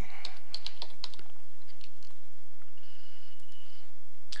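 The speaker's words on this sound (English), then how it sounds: "We could type in real estate" Quick keyboard typing as a short phrase goes into a search box, a close burst of crisp key clicks in the first second or so, then a few scattered taps trailing off, with no voices.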